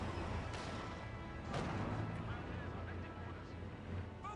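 Artillery barrage in Company of Heroes 2 rumbles continuously, with dull booms and crashing impacts layered in a dense, sustained roar and a sharper blast around the middle, while a voice talks over it.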